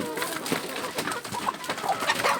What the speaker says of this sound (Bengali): মুরগিগুলো কিন্তু অনেক লাফালাফি করতেছে